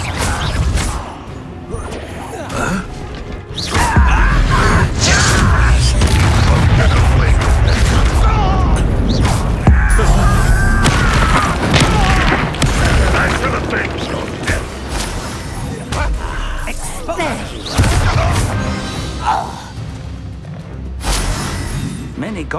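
Confringo blasting spell in Hogwarts Legacy combat, loud booming blasts and crashing impacts amid clanking, ratcheting mechanical battle noise, with a voice speaking over the dense, continuous din.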